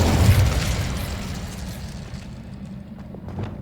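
Fire spell cast in the Hogwarts Legacy video game, a loud whooshing burst at the start that fades into a softer crackling rumble over a few seconds, heard alone.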